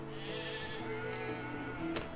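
Sheep in the Medieval Dynasty game bleat over a layer of background game music, with a short, fairly close call near the end.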